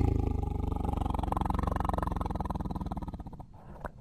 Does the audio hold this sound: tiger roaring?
yes